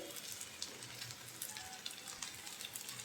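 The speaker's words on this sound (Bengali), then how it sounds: "আলুটা হালকা একটু লালচে পোড়া পোড়া হবে এরকম করে ভেজে নিলে ফ্লেভারটা খুবই ভালো আসবে" Potatoes fry in a pan until lightly reddish and charred, for a mashed potato bhorta, with a soft, constant, fine-grained sizzle heard close but quietly, with no talking.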